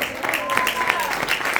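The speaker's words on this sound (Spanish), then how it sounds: "¿Puede darle una ofrenda de palmas a Dios?" A church congregation gives God an offering of applause, a steady, dense patter of many hands clapping together throughout, with voices mixed in underneath.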